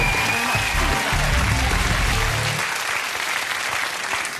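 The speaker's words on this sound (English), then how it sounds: "Guy Goma. A round of applause." Studio audience applauding Guy Goma on a comedy quiz show, a loud, dense burst of clapping that holds steady for a few seconds before easing off slightly at the end.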